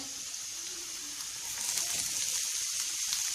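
A carrot browns in a frying pan for sausage soup, with a steady soft sizzle that swells louder partway through as onion goes into the pan.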